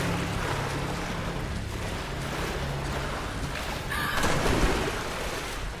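Lara wading through cold water in the Tomb Raider video game, a steady sloshing, rushing wash that runs the whole time with a brief louder surge near the end, no voices over it.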